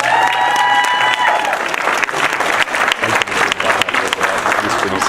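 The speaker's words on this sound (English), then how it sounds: "Big round of applause." A crowd at a STEM school ribbon-cutting ceremony claps steadily, with dense, close applause that continues without a break.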